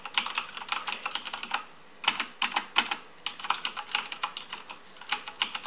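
Rapid, uneven clacking of keys being typed on a Cooler Master MasterKeys Pro L mechanical keyboard, close and crisp, with one brief pause partway through and no voices.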